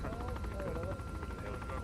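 A helicopter in the military game Arma 3 drones steadily with rotor pulsing and a rising-falling turbine whine, continuous and fairly close, while people talk over it.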